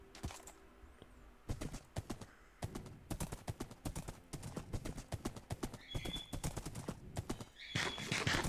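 Horse hooves clip-clop in Minecraft gameplay, a quick run of close, sharp hoofbeats, with a whinny near the end and a few quieter gaps between bursts.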